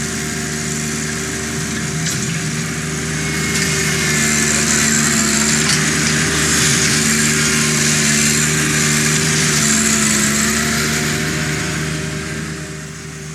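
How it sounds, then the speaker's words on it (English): A tractor engine runs steadily and loudly while gravel is spread for a parking pad, with a constant low drone and strong harmonic tones that swell slightly in the middle, heard alone without talk. "when you're spreading rock with a tractor and especially larger skid steers"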